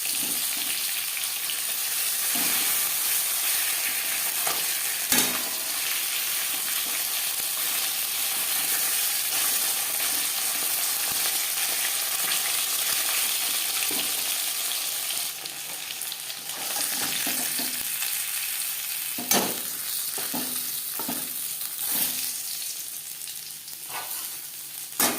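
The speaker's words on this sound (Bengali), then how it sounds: "প্রথম ব্যাচে মাছ ভাজা হয়ে গেছে" Bata fish fry in a pan of hot oil with a steady, close hiss and sizzle. Occasional sharp clicks and scrapes sound as the pieces are turned.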